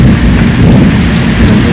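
Heavy rain pours hard during a windy storm, heard from indoors as a loud, continuous wash with a low thunder rumble underneath.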